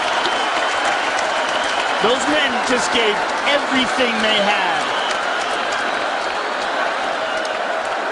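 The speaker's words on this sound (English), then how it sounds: "This crowd is on its feet." A UFC arena crowd cheers and applauds loudly after a fight, a sustained roar of clapping and shouting with a commentator talking over it.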